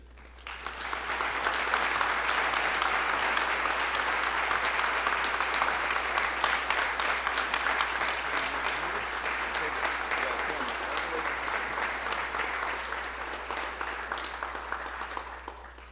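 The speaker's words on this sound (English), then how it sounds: "thank you for the applause" Steady, dense audience applause fills a hall at the Dakota Wesleyan Athletic Hall of Fame banquet for a new inductee, building quickly and holding for about fifteen seconds before fading.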